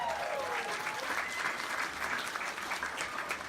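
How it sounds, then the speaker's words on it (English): Audience applause at a live gig after the warm-up acts, a dense steady burst of clapping that stays loud and close for the whole stretch with no talk over it. "please give them a round of applause"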